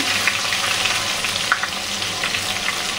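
Chopped onions hit hot oil in a ghugni being cooked with goat fat, giving a steady, loud, dense sizzle that holds evenly throughout with a few faint crackles and stirring scrapes.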